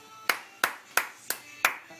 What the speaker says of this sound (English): there's an applause in there